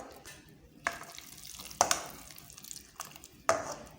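Hot sugar syrup stirred into gram flour for besan barfi: soft wet scraping and stirring close by, with a few sharper clacks of the spoon against the pan, quiet and uneven.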